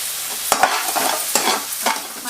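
Onions, green chillies and turmeric for a samosa filling fry and sizzle in a pan while being stirred, with a steady close hiss broken by a few scraping stirs and no talking.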